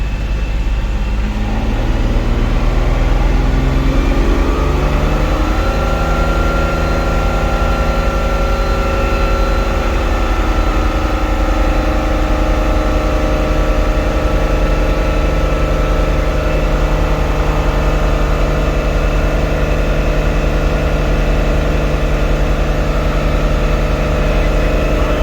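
A drift car engine climbing from idle up to a steady 3,000 RPM limit, a loud, continuous mechanical hum that rises in pitch over the first few seconds and then holds level.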